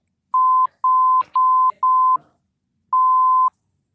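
Five tones of a loud censor beep mask swearing on a cricket podcast: four close together, then one after a gap, with faint speech fragments between them.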